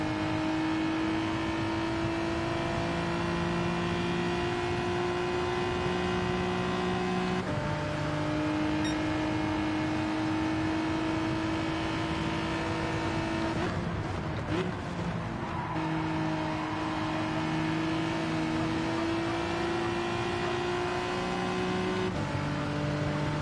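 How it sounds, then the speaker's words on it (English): A Ferrari engine in Gran Turismo 7 revs and accelerates through repeated gear shifts, its steady rising whine dropping at each change, with a brief tire squeal midway, loud and continuous with no talking. "There's no way that Ferrari has that bad acceleration."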